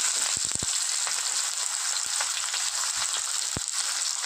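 Onion hits hot oil for a tomato dal and fries in a continuous loud sizzle, with a few brief knocks of a utensil against the pan near the start and once more near the end.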